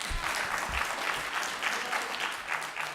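Applause from the public gallery at a city-county council meeting, a steady dense clatter of many hands lasting throughout, with faint low rumbles underneath.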